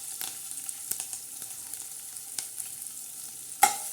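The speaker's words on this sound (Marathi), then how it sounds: "त्याच्यामध्ये आपण थोडं फोडणीसाठी हा थोडा कढीपत्ता टाकणार आहे" Curry leaves, garlic and cumin tempering in hot oil for a Marathi dried mandeli fish dish, giving a soft, steady sizzle with scattered crackles and pops and one sharper burst near the end.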